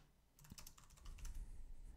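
Rapid clacking on a computer keyboard, quiet and close, a quick irregular burst of keystrokes with no talking.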